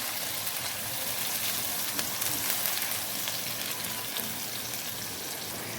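Ginger and garlic paste frying in a pan for chicken kabab korma, a steady soft sizzle that holds evenly throughout without any talking.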